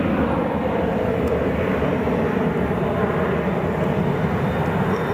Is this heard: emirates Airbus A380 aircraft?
yes